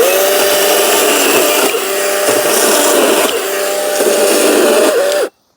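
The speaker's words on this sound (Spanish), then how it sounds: "Fijaros qué velocidad de corte para una motosierra además tan ligerita" Lightweight chainsaw cutting wood close to concrete, its loud high engine whine holding steady through a long cut and dipping briefly in a few spots before stopping abruptly.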